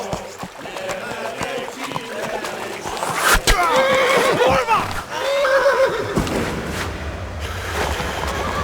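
A horse neighs loudly amid clattering hooves and game sound effects in Kingdom Come: Deliverance, with a second whinny following a moment later.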